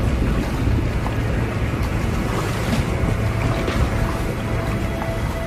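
Stormy open ocean with heavy waves and strong wind, a continuous loud roar of surf and gusting air without any voices.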